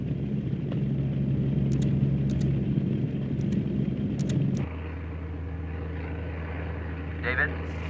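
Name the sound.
research aircraft flying into hurricane, cabin rumble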